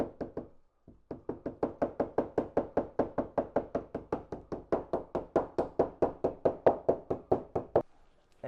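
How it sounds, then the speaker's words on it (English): A rubber mallet taps a paint-matched door edge guard through a microfiber cloth on a 2020–2024 Toyota door, giving about thirty-five close, sharp knocks in a steady, quick rhythm after a brief pause. "Just take the microfiber and just tap a little bit harder with the mallet across."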